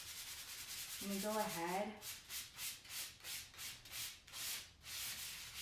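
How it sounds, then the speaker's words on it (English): Sandpaper rubbed back and forth by hand for a decoupage project, a steady series of soft, close scratchy strokes in an even rhythm, with someone briefly speaking at the start. "I actually have just a little really easy like sandpaper"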